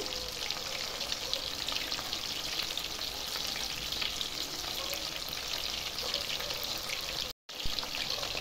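Chicken sauté fries in a pan over a high flame, a loud, dense, continuous sizzle with crackling spatter throughout.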